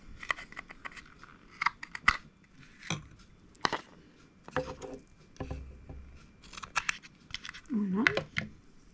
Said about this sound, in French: et je viens couper